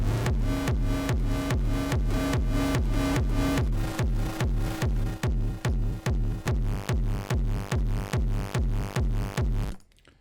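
A heavily processed, sidechained kick drum pounds in a steady, driving offbeat pattern, each hit thick and booming with a pumping swell; the beat runs about ten seconds before stopping abruptly.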